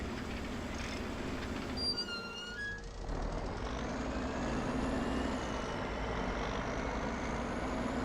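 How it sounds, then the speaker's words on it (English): A Kenworth truck in Farming Simulator 25 with a steady, loud engine drone, a brief hiss like an air brake release partway through, then the engine settling back into a continuous rumble. "I do like how that Kenworth sounds, though."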